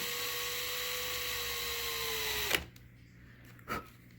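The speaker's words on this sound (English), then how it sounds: "That's all I did with that stupid large, like, obscene drill." A large power drill boring a small hole near the seam of a Marvel Legends action figure torso, a steady high whine for about two and a half seconds that cuts off abruptly, followed by a brief clack.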